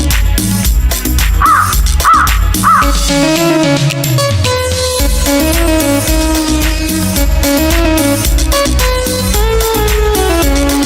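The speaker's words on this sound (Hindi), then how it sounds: "मुझे कौवे ने जगाया, बोला काऊ काऊ काऊ।" Three quick crow caws sound in a row early on, set inside loud, busy music of a Hindi children's rhyme.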